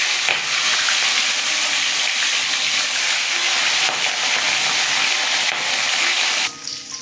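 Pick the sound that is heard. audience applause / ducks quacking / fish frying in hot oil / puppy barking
fish frying in hot oil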